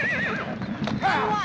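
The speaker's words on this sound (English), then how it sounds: "You stampeded our horses!" Stampeding horses in a western film whinny shrilly over the thud of hooves, loud and close, with voices shouting underneath.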